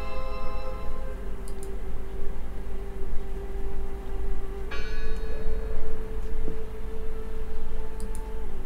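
A bell tolls in the video game Draugen, a resonant metallic strike ringing out with a long humming decay over a dense, steady ambient background, a second strike arriving midway.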